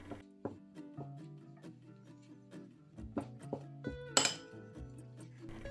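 A spoon clinks and taps against the sides of a bowl while stirring a thick starch and dish soap mixture, giving a close, repeated ringing rhythm with one sharper knock near the end.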